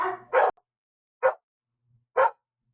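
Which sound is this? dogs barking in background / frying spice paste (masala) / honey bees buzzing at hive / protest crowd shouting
dogs barking in background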